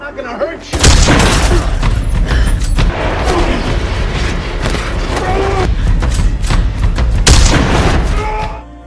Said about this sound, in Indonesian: Kaki Hill tertembak, namun ia berhasil membunuh perampok itu.